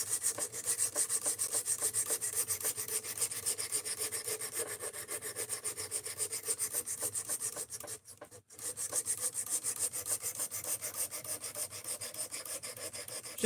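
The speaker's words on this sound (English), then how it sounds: "we're trying to get the knife sharp so we can do some edge retention testing" A supposedly D2 steel knife is being sharpened, with a continuous rhythmic rasping of rapid back-and-forth strokes and one brief pause near the end, close and alone.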